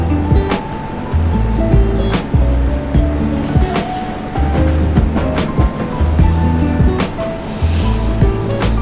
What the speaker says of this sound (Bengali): দারচিনি, এলাচি, 1 বাটি পেঁয়াজ। নেড়ে চেড়ে দিচ্ছি।